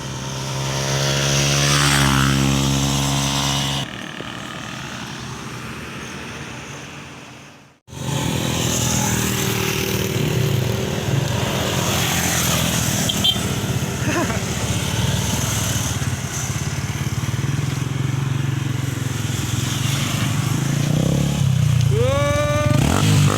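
A Yamaha Sniper 150 motorcycle with a modified Mody5 power pipe exhaust revs loudly up close. A sharp drop and a short near-silent pause break the sound, then a sustained full rev follows.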